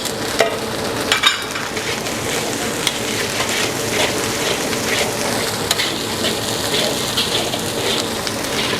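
Chili and spring onions fry loudly in a pan for a Indonesian spicy-sweet mie nyemek, a dense, continuous crackling sizzle with a few sharper pops near the start and no talking.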